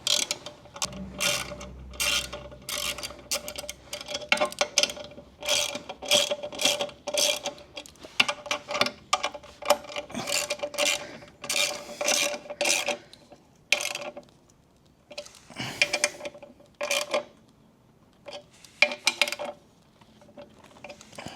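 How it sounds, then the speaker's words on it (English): A ratchet with a 13mm socket tightens the skid plate bolts on a KTM 690 Enduro R. It gives close, rapid clicking bursts in repeated strokes with brief pauses between them. "Then a 13mm socket for the 2 main bolts underneath."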